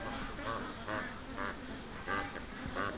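A Muscovy duck at a charity duck-raising farm, in a morning yard with other ducks, gives a run of about five short rasping quacks at a steady rhythm, fairly close over a low outdoor hum.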